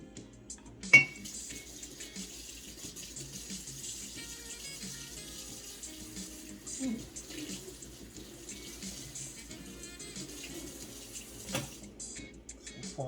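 Running tap water pours into a sink while a new meat trimmer is rinsed, steady and fairly quiet, with occasional clinks and knocks of the tool against the basin.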